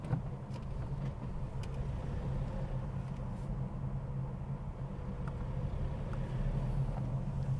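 A car creeps slowly along a tight road, giving a low, steady engine and road rumble from inside the cabin that holds even throughout without speech.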